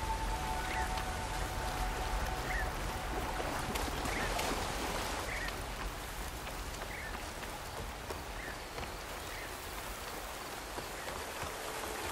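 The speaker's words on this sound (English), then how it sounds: "Rain's finally stopping." Steady rainfall in the game Horizon Forbidden West, a dense, even patter of drops hitting surfaces that holds for several seconds with a faint hiss and no voices over it.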